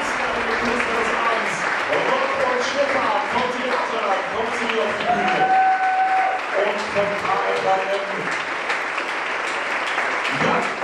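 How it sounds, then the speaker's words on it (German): Audience applause fills a theatre evening at the Tollhaus in Karlsruhe, a steady, dense wash of clapping lasting throughout, with voices and cheers mixed underneath. "Applaus."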